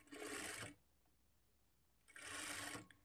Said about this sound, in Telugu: ఇక్కడి నుంచి స్టార్ట్ చేసుకొని 1/2 ఇంచ్ మార్జిన్‌తో స్టిచ్